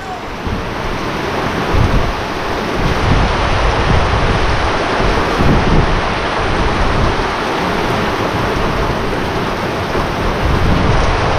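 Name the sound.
strong typhoon wind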